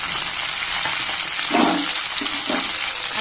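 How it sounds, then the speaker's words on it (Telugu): Drumsticks, radish and carrot frying together in a pan hiss and sizzle steadily, with a couple of stirring scrapes partway through. "అన్నీ వేసి బాగా దోరగా వేయించాలి"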